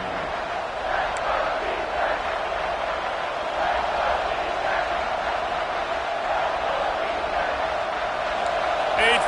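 Constant crowd roar fills a stadium in a college football video game, a Texas A&M game, steady and loud, with commentary voices over it.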